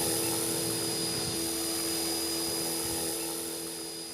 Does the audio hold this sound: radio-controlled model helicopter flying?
yes